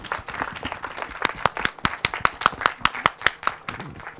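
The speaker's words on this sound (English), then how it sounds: "Can we just give a fantastic round of applause to brilliant panellists?" A conference audience claps for the panellists, a brief round of quick, sharp hand claps that builds into a steady patter and then fades, fairly close.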